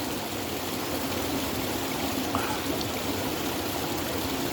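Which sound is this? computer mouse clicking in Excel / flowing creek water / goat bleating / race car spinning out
flowing creek water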